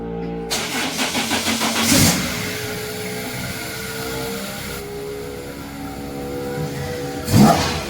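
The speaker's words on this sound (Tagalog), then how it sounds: "humiling ako kay Sir Champion kung pwede i-rev ng konti kasi gusto kong marinig" Toyota Vios 2003 with a 2ZZ engine starting up close, then revving in a few sharp bursts over a steady idle, with a final loud rev near the end.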